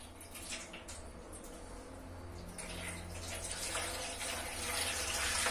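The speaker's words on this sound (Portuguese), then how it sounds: "E nós vamos colocar água até o máximo desse aqui, onde tá escrito" Roughly two liters of water pours steadily into a pot up to its max line, a continuous close splashing stream that grows fuller and louder as the level rises.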